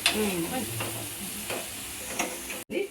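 Ginger sizzles in a hot pan for boti curry, a steady frying crackle broken by repeated scraping stirs of a spoon, close and fairly loud with no talk.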